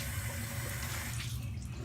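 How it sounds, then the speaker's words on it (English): Tap water running steadily into a sink for rinsing during a wig-styling routine, a continuous close hiss and splash that thins slightly toward the end, with no talk. "I'm going to rinse some water"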